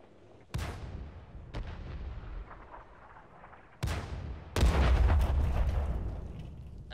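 Video game artillery shells slam down in a few separate heavy booms, each a sharp crack followed by a rumbling decay, with the last two landing close together and loudest.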